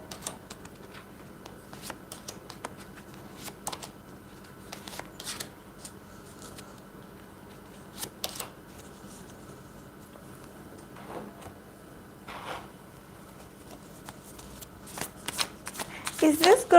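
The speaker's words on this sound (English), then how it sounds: "Okay, I'm going to pull cards for Jeongyeon of Twice." Cards shuffled for a card reading, scattered soft riffles and snaps at irregular intervals, close and quiet, with a voice talking at times.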